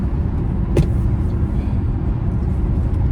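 Car traffic on an Oklahoma City road heard from inside a moving vehicle: steady low road rumble with a brief sharp click partway through.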